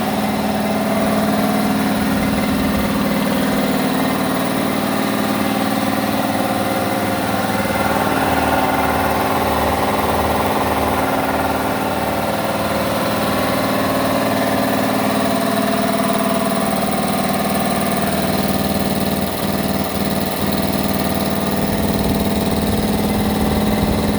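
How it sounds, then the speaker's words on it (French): Scheppach three-motor air compressor runs on its first start, a loud, steady mechanical drone with rhythmic motor pulsing that holds unbroken from start to finish, with no voices. "Bon, ben, on va le mettre en route, hein. Premier démarrage."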